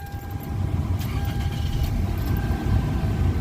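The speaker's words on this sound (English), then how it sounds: "Alright, so we're in the car and we're starting it up." A 1999 Toyota Corolla engine idles with a steady, close, low rumble and faint mechanical whine, running continuously without other sounds.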